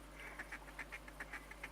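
Ducks quack in the hunting video game theHunter Classic, a string of about ten short, evenly spaced calls sounding faint and somewhat distant over a low steady hum.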